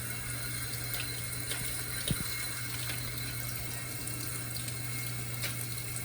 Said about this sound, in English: So I'll start by putting a generous amount of soap and rubbing it in for about 15 seconds.